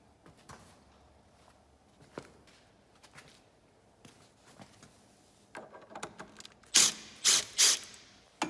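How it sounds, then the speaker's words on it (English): Screws being taken out of a Festool CS70 table saw: faint scattered clicks and taps at first, then a few loud, close ratcheting bursts near the end. "Start pulling the screws off and the plastic."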